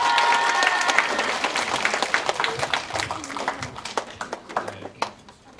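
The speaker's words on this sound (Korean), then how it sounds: "박수로 환영해 주시기 바랍니다." An audience in a girls' high school hall bursts into applause welcoming a visiting guest speaker, dense clapping that thins and fades out over a few seconds.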